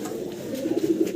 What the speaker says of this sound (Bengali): বাম পাশে হচ্ছে নর কবুতরটা